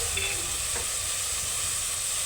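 Vegetables for an aubergine and potato curry fry in oil, giving a steady, close sizzle with occasional stirring and no talk.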